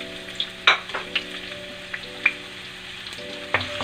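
Crushed garlic and ginger fry in hot oil, a soft steady sizzle with several sharp pops and spatters scattered through, close and without any talk.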